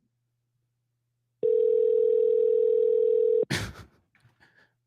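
A call to Chick-fil-A rings out as one long, steady electronic tone lasting about two seconds, followed by a short clatter and faint sounds.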